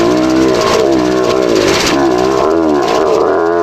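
Audi S2 engine running rough at idle with loud, steady mechanical drone, wavering unevenly, close up.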